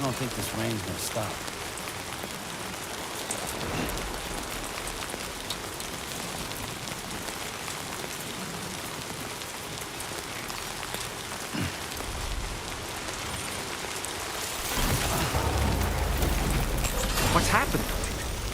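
Steady rain hisses across the landscape in Death Stranding 2: On the Beach, a constant soft wash of drops that swells louder near the end, with occasional character voices over it.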